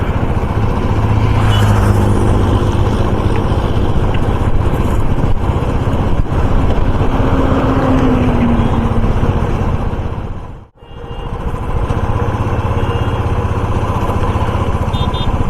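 A motorcycle cruises along a highway from Kolkata to Digha on a winter ride, its engine drone and rushing wind loud and steady throughout, with one brief dip near the end and no talk.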